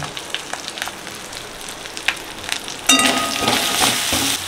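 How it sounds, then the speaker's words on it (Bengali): Spices (ginger paste, chopped green chillies, coriander powder) frying in oil for ghugni, a street-style chaat: faint crackle with a few clinks for the first three seconds, then a louder, steady sizzle. "মশলা খুব ভালো করে কষিয়ে নিয়েছি, মশলা থেকে তেল ছেড়েছে"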